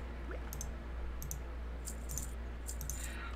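Computer mouse clicks sound during a World of Warcraft Classic session, faint sharp ticks arriving in small pairs and clusters over a steady electrical hum, with no voices.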